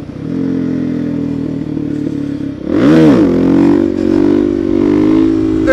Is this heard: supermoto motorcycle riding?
yes